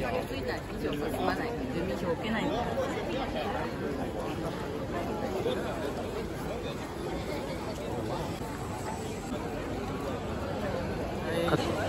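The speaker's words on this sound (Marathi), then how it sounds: "किती गर्दी आहे बघा आज" Dense crowd chatter fills the grounds of Asakusa Temple in Tokyo, a steady babble of many tourists' voices mixed with footsteps. It stays continuous and fairly loud throughout.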